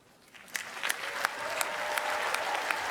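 A large crowd in Harvard's Tercentenary Theater gives a standing ovation at commencement, the applause swelling from a few sharp claps into a broad, distant, sustained roar.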